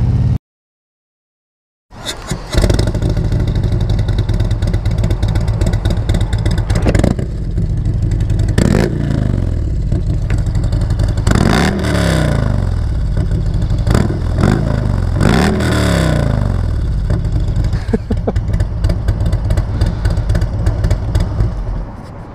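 A Harley-Davidson Freewheeler trike fitted with a Vance and Hines exhaust idles with a loud, deep rumble, then is revved repeatedly in sharp rising bursts, close and dominant throughout after a brief silent start.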